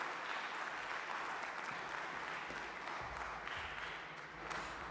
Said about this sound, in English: I am going to ask you for your biggest round of applause